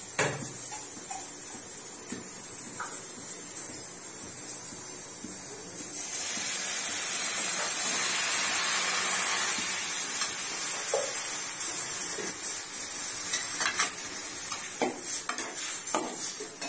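Chopped tomatoes go into a hot pan while making tea-shop style samosa filling, bringing a broad, steady hiss of sizzling along with clinks and scrapes of a utensil stirring against the pan, fairly loud and continuous with no talking.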